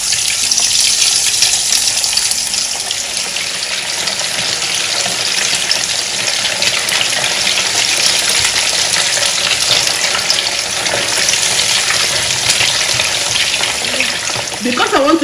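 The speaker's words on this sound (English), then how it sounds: "the oil is heated, so we are going to deep fry the tofu, and you're going to use a medium heat to fry it" Tofu deep frying over medium heat in a pot of hot oil, a loud, steady, dense sizzle and crackle running continuously up close, barely changing throughout.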